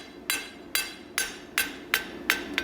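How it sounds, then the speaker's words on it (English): A hammer strikes a square steel bar being forged round, six sharp metallic blows landing at a steady, unhurried rhythm, close and alone. "if I have to turn my hammer just a little bit up to push that line"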